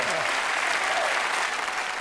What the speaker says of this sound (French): On applaudit très fort Chevalier Laspalès quand même.